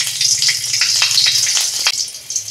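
A green chili drops into hot oil left from frying potatoes, raising a loud, close, crackling sizzle with quick popping bursts and a low hum underneath.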